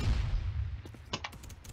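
Classic sniper rifle firing in a Roblox gun-testing game, a muffled boom at the start followed by a rapid run of sharp, crackling shot transients, loud and close, with no voices.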